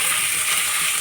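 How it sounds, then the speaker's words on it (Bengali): Onions sizzling steadily in a pan as they fry deep red, a continuous close crackle with no pauses. "এবার পেঁয়াজটাকে অনেকক্ষণ ধরে একদম লাল করে ভাজবো, যেমন আমরা বিরিয়ানিতে বেরেস্তা ভাজি ঠিক তেমন।"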